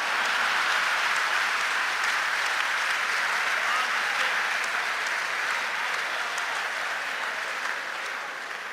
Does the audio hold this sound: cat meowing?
no